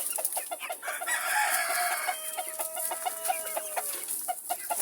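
Legbar hens cluck busily and steadily while pecking at soaked bread, a close, continuous chorus of chattering calls with one hen's drawn-out note rising above the rest.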